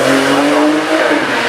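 A Porsche GT4 race car roars past at full throttle on the Goodwood hillclimb, its loud engine note steady and close with a hint of tyre noise, no voices over it.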